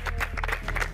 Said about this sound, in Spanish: Nos damos un aplauso para comenzar bien este día.